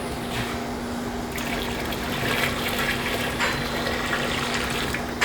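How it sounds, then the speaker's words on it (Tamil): Water is poured from a rinsed jar into a large cooking pot for bulk halwa, giving a steady, loud gushing splash that runs on without a break. "இப்போ ஒரு 4 லிட்டர் தண்ணி வந்து இந்த ஜாரை வாஷ் பண்ணி ஊற்றுறேன்"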